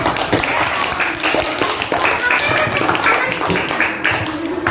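Schoolchildren in a classroom applaud a classmate with dense, loud, steady clapping that carries on for several seconds, with a few voices mixed in.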